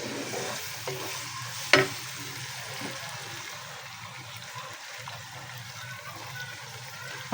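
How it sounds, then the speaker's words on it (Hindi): Chopped onion fries in oil until light brown for an aloo keema, a continuous soft sizzle with stirring and one sharp clink of a utensil against the pan near the start, no voices. "अभी चॉप किया हुआ अपना डालेंगे प्याज। प्याज को लाइट ब्राउन करेंगे।"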